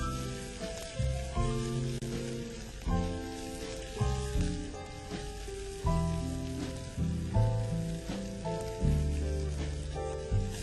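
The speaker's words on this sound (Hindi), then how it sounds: "इस प्याज को अच्छे से अपने को भूनना है वर्तिका, और अच्छा सॉफ्ट हो जाए" Chopped onion frying with ginger garlic paste in a pan, giving a steady sizzle beneath loud melodic background music throughout.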